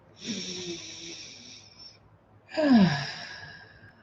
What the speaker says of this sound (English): take a nice deep centering breath. Slow, easy breath